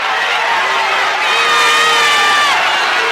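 A high school basketball crowd at a conference game shouts and cheers loudly and continuously, with whoops and raised voices blending into a dense roar in the gym.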